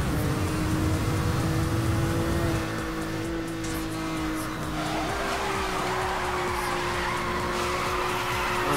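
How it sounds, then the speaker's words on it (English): In a driving video game, a car drifts through a corner with a long, steady tire squeal over a droning engine. The screech holds loud and unbroken for several seconds before shifting slightly in pitch. "Drift this corner as much as I can"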